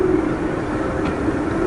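A rocket engine runs at full throttle in Kerbal Space Program, a steady, loud, broadband roar that holds unbroken throughout with no voices.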